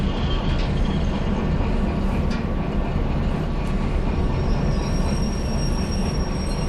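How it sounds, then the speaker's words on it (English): A train in the Derail Valley simulation game rumbles steadily along the rails as a notch of brake is applied, with continuous wheel noise and faint high squeals throughout. "I'm applying 1 notch of brake and then letting off because we're getting close"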